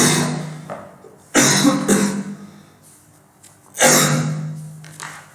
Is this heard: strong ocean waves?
no